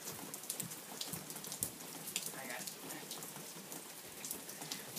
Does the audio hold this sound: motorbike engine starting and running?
no